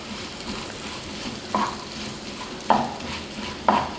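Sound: sliced onion, garlic and ginger sautéing in a pan

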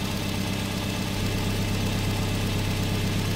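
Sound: Toyota minivan engine idling

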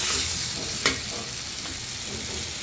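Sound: potatoes being sautéed in egg-potato curry

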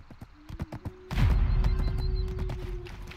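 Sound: horse hooves in video game Black Desert Online

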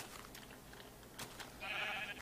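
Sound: sheep bleating after being punched in a video game

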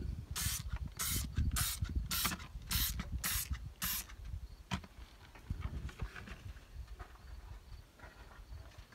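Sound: spraying Easy-Off oven cleaner onto old tires

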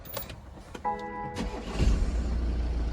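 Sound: BMW 318d 2021 engine starting with push button

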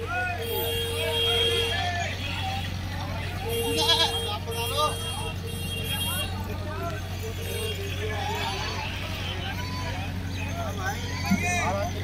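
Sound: goats bleating at a goat market

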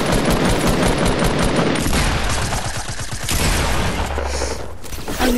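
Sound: gunfire from a video game

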